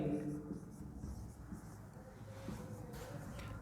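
Marker or chalk scratching on a board during a physics lesson on electric energy and power: a steady, faint writing rasp running under a teacher's voice.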